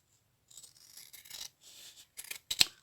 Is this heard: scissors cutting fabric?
yes